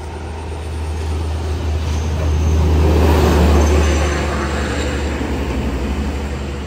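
A heavy truck engine rumbles steadily with a deep low drone, swelling louder in the middle as if passing close, then easing off.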